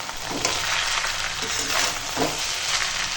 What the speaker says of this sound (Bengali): এবার হালকা হাতে নেড়ে নেবো